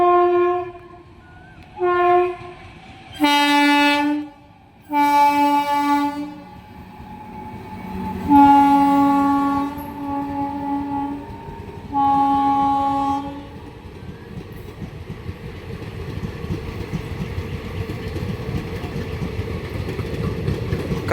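A Lalgola passenger train passes the Kasimbazar rail gate, sounding several loud, sustained horn blasts in short bursts before the rumble of wagons rolls on steadily close by, with no talking.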